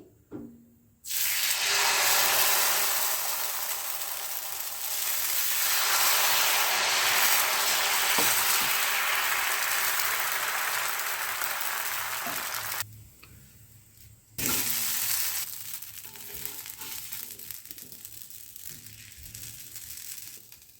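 Dosa batter sizzles loudly in a hiss as it hits an oiled pan. The frying noise holds for about twelve seconds, cuts out briefly, then returns at a softer level.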